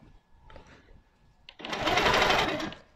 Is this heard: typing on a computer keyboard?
no